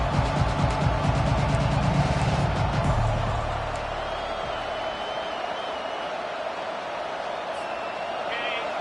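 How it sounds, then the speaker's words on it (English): A stadium crowd roars in a college football video game, Nebraska against USC, a dense sustained wall of noise that is loudest early and eases slightly but keeps roaring throughout, with a faint whistle-like tone drifting above it. "listen to the roar of this crowd"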